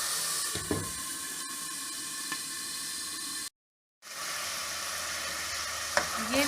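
Onions and keema fry in a pan with a steady, close sizzle, broken by occasional stirring scrapes and one brief dropout of silence before the frying resumes.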